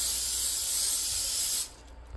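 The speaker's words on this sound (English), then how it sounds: "we're going to lightly spray our baking sheet" Cooking spray hisses steadily from a can onto a baking sheet in a home kitchen, one continuous close, fairly loud burst lasting about a second and a half before cutting off abruptly.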